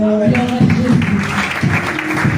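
A church congregation acclaims Jesus with a burst of clapping and cheering voices, dense and close, overlapping a leading voice.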